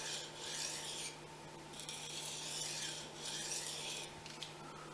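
A Fujimoto honesuki knife scraped across a sharpening stone in light, steady back-and-forth passes, producing a soft continuous rasp that swells and fades with each stroke.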